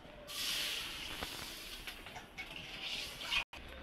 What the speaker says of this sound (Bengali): কড়াটা একটু ধুয়ে নেবো।